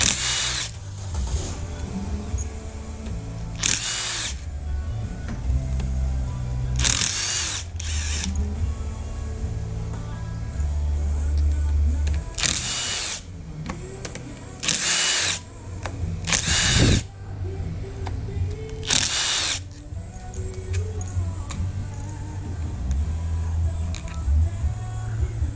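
A power drill removes clutch cover case bolts from a motorcycle, likely a CR80RB, whirring and grinding in repeated bursts with loud high-pitched spins between metallic mechanical clatter, close up, with no talking.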